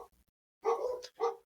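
Dogs barking outside, two or three muffled barks in quick succession after a brief pause, moderately loud and somewhat distant, with no talking over them.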